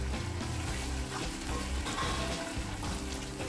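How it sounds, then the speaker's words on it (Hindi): Chicken barra masala sizzles and fries in a pan, a dense, continuous crackle close up with scraping stirring strokes scattered throughout, no voices over it. "एक सेकेंड इसको भी भून लेते हैं।"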